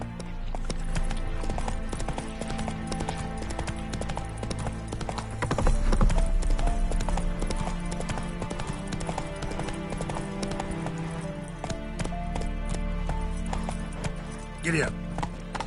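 Roach, the horse in The Witcher 3, gallops with steady, continuous hoofbeats close by, running beneath game music, with a speaking voice over the top.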